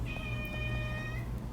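A cat meows for attention indoors, a single drawn-out high-pitched meow lasting about a second over a low background hum.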